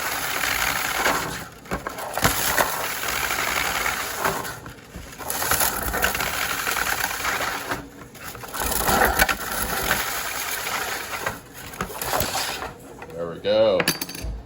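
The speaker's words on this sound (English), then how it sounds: "Here's how you get filament off a spool." 3D printer filament is pulled and stripped off a spool in a series of crinkly scraping and crunching bursts separated by short pauses, close and fairly loud, with a brief higher squeak near the end.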